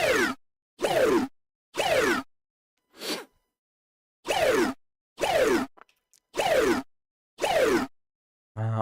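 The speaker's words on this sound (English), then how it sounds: "This is the kind of laser. Yeah, I really like making sounds like this by resampling." Resampled laser synth sounds for heavy dubstep production fire in a series of eight or so loud, sweeping bursts with short gaps between them. One softer, noisier burst sits in the middle.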